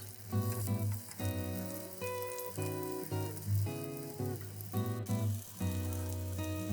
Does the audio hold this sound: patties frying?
yes